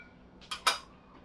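A metal lid clanks twice onto a pot of potato-onion curry, two quick close clinks in quiet kitchen surroundings.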